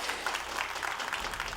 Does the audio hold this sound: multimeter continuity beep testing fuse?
no